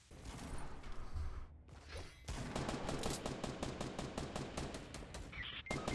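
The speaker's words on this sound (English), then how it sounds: "It's a shotgun! The bullets spread!" Rapid gunfire in Fortnite Battle Royale, with a shotgun among the weapons, rattling in fast bursts. A short burst and a pause lead into a long rhythmic volley of sharp close shots that stops abruptly near the end.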